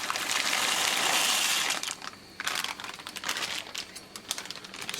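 Dry pasta tipped into a pot of boiling water on a home stove, a loud dense crackle and rattle for about two seconds, then softer bubbling and scattered ticks as the pieces settle.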